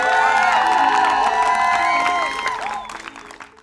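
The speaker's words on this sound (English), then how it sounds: "Please give them a round of applause." An audience applauds and cheers for a youth arts collective from Music Box Tampa Bay, with whoops and high voices over dense clapping that fades toward the end.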